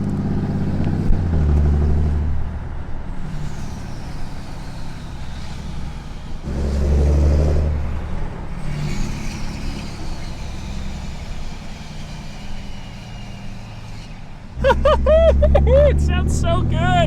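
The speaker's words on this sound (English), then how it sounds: "you get the blissful sound of the exhaust brake every single time you let your foot off of the accelerator" A 2014-or-newer Cummins 2500 diesel pickup's exhaust brake rumbles in three deep, loud bursts as the throttle is released, each low growl swelling then fading, with a voice briefly heard near the end.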